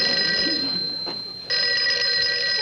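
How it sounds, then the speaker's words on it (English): An old telephone bell rings in two bursts with a short gap, loud and bright against a quiet room, with no clear talk over it. "Somebody answer the phone."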